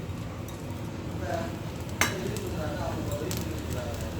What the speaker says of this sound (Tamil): இந்த பசலியவே இதில் போட்டுருவோம்